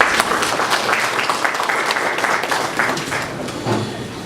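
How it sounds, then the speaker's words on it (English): A conference audience at an energy-sector dialogue gives a round of applause for a bank risk-management head, steady clapping filling the hall with a few louder bursts near the end. "Ladies and gentlemen, please a round of applause for him."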